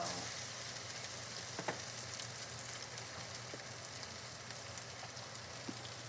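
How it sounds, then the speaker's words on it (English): Potatoes sizzle in a frying pan alongside browning onions and sausages, a steady close crackle with a few sharper pops and light stirring scrapes, no voices. "So now we add the potatoes. Into the pan they go."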